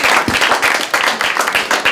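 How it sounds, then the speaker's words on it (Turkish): A studio audience at a Turkish late-night talk show breaks into brisk, loud applause, with dense clapping that pulses in quick waves throughout. "Bravo hanımefendi alkışlayalım."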